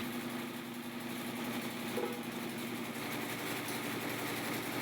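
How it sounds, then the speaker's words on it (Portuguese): An electric motor drives a grain mill, giving a steady, continuous mechanical hum with a constant whirring drone and no breaks, fairly close and moderately loud. "investir num motor elétrico para a moagem"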